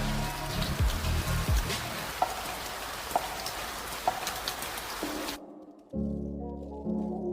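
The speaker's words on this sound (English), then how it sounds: "a heavy rain started pouring down" Heavy rain pouring down in a film drama scene, a dense, steady hiss of downpour with a few sharper drips, lasting about five seconds before cutting off abruptly into a quieter low hum.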